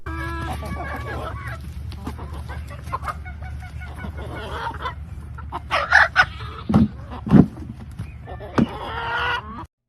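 A chicken clucks and squawks from a horse's food bucket in a few short, loud bursts over steady background noise, with quieter calls scattered before them.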